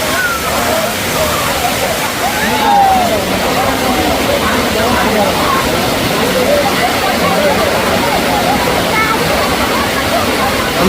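Waterfall at Kumbakarai near Kodaikanal, a loud, steady rush of falling water that fills the whole clip, with faint voices in the background.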